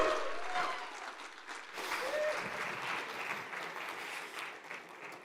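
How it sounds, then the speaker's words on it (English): An audience at the Cosmoverse 2023 Cosmos ecosystem conference in Istanbul applauds a speaker in a dense, steady clapping that swells after a brief dip and continues for several seconds, with faint cheers in the crowd. "Please, big applause for him."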